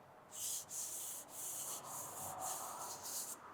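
A hand sweeps back and forth across contaminated paint on a barn-find Fox Body car, producing a dry, gritty rasp like sandpaper; about six close strokes with brief pauses between them, no speech.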